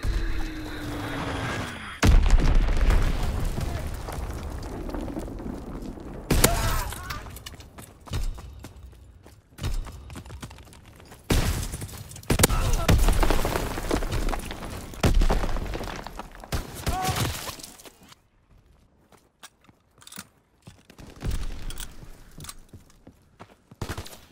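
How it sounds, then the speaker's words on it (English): Enemy aircraft strafe the position in a Call of Duty WWII battle, with loud bursts of gunfire and heavy explosions booming and thudding in repeated close waves, then easing into quieter scattered impacts. "Enemy strafing run incoming. Get to cover!"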